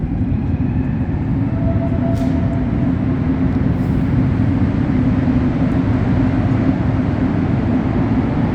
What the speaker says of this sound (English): we're going to see the train coming in